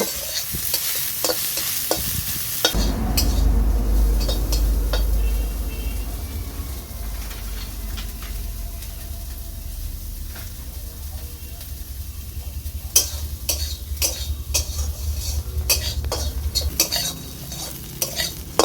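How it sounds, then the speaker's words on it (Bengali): Soybean chunks seasoned with salt and turmeric fry in a pan, with a steady loud sizzle and frequent close scraping and clinking as a utensil stirs them; stray clatter comes at the start. "সয়াবিনটাকে আমি ভেজে নেব।"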